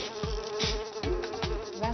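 A swarm of flies buzzing around a person, dense steady droning with close individual flies passing the microphone in repeated swells, loud and near, with no talking.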